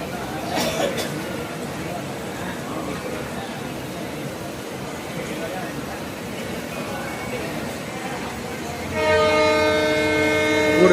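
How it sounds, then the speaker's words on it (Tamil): A long, loud train horn sounds near the end as the TPJ-RMM Express departs Tiruchirappalli Junction, over steady rail rumble and background chatter. "ஒரு நீண்ட ஒலிப்பானுடன் நமது ட்ரெயின், நமது தொடர்வண்டி திருச்சி சந்திப்பை விட்டு புறப்பட்டு விட்டது."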